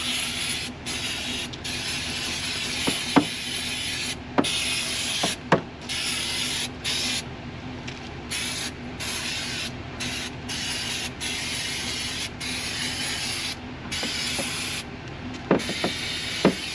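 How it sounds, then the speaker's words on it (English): Cleaner sprayed onto a vehicle part, with a steady close hiss of spray running throughout and a few short sharp clicks and knocks from handling the parts. "I'm gonna hit it with just some cleaner."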